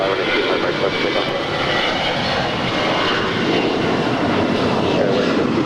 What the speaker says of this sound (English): That was Alaska 525 departing to Seattle.